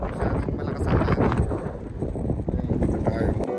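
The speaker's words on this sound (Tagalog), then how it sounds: "masyadong malakas ang hangin." Strong wind buffets the microphone with a constant roaring rumble, loud and unbroken throughout.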